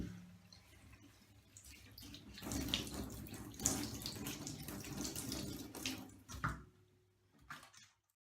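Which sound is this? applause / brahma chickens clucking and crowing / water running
water running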